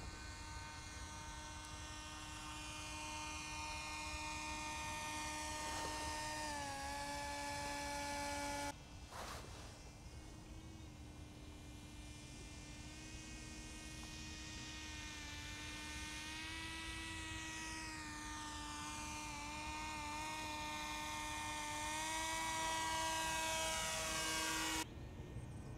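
A steady, high-pitched whining electric motor drones continuously from an RC paramotor in flight, its pitch wavering slightly as throttle shifts, with a brief dip partway through.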